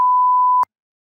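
A single steady censor bleep tone sounds clearly for just over half a second and then cuts off abruptly, leaving silence.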